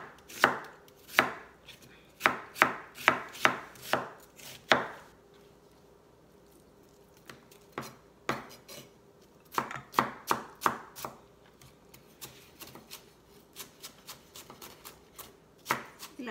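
Onion being chopped by hand with a knife while preparing a banana blossom salad in a camper: close, sharp chopping strikes in quick clusters separated by short pauses, with no talking.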